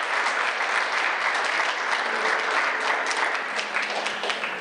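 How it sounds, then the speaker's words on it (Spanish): A church congregation applauds steadily and loudly for several seconds, a dense, even wash of many hands clapping together with a faint murmur of voices underneath. "Denles aplauso al Eterno."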